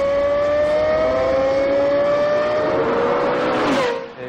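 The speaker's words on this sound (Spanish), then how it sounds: "Y el sonido de este motor de alta revolución es inconfundible." Lexus LFA high-revving engine screams loud and close, a sustained rising whine with strong harmonics climbing in pitch before the note bends down and drops away at the end.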